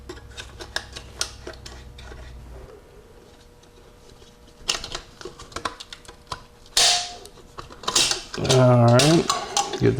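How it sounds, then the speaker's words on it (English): A screwdriver works a snap ring out of a drag-race Powerglide transmission, producing sharp metallic clicks, taps and scrapes in irregular bursts, with a few louder clanks and a brief ringing scrape near the end. "Alright, get the snap ring out."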